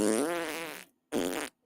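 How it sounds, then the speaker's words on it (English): Two cartoonish fart noises played as a sound effect: a long, wavering, buzzy one that trails off, then a short, sharp burst after a brief silence. "You don't have to bring out the fart noises."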